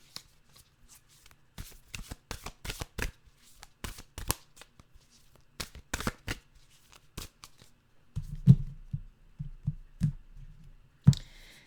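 Nature's Whispers oracle cards are shuffled by hand in a quiet room, giving bursts of crisp riffling and clicking taps with short pauses between them.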